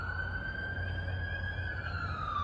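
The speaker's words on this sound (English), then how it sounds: "Now, I live in suburbia. There's traffic noise." A siren wails in a steady, slowly falling tone over the low rumble of passing suburban traffic.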